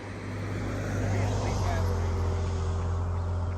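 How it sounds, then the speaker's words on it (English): A car passes along a road near a disc golf course, a broad rushing swell over a steady low hum, while someone talks nearby. "There's a car to pass."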